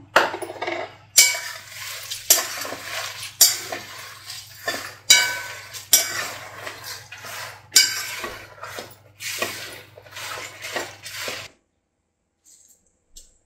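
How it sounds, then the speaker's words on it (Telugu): Garlic being stir-fried in a pan for Guntur spice powder, with repeated clinks and scrapes of a ladle against the metal pan at a steady pace, then quiet. "ఇప్పుడు వెల్లుల్లిపాయలు కూడా వేసుకుని ఫ్రై చేసుకున్నాం."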